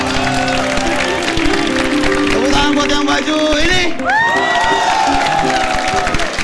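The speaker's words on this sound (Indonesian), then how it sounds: "Pemenang untuk tepuk tangan untuk yang baju merah." Audience applause and cheering for the red-shirted winner of a make-up contest on a TV comedy show, a continuous loud crowd noise with whoops, under music and someone talking.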